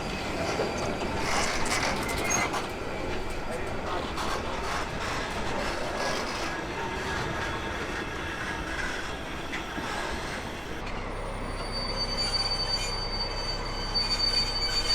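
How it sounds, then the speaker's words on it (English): A historic train is pushed back toward the platform, its wheels squealing loudly and continuously against the rails with a steady rumble beneath, and a low hum settles in near the end; no voices. "the train gets pushed back to the platform area and is now ready for departure"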